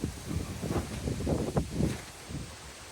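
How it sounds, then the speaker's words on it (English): Strong outdoor wind gusting through leaves, a rough continuous rush of rustling that swells and eases over the moment, close to the microphone with no voices. "It's quite the wind starting."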